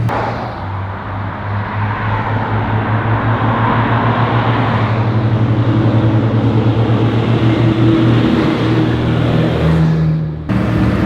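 JCB Fastrac tractors racing flat out, a loud, steady engine drone with a rising tone as they accelerate and hold speed, then a brief gear change near the end.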